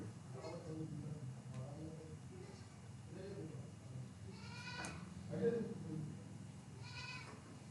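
A goat bleats outside a few times at some distance, its short quavering calls coming through under someone talking indoors.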